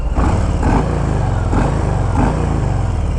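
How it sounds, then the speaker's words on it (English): A Harley-Davidson motorcycle with a Milwaukee 114 cubic inch V-twin and factory exhaust runs loud and close, a lumpy, throbbing idle with slight rhythmic surges. "let's fire up the Milwaukee 114 cubic inch"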